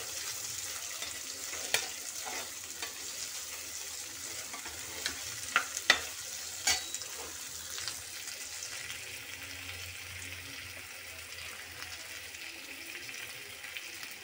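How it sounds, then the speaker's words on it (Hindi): Bitter gourd slices fry in oil while being stirred slowly, giving a soft, steady sizzle with a few faint spoon scrapes and taps, close and quiet, with no voices. "तेल में ही इनको हम फ्राई करते रहेंगे ताकि ये पकना रहे"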